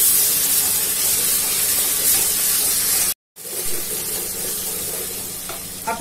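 Ginger garlic paste sizzles hard with lightly browned onions in a hot pan, a loud, steady frying hiss broken by a brief silence midway before the sizzle resumes.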